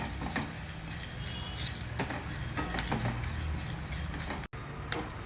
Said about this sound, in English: Stir fry all these spices and dals together.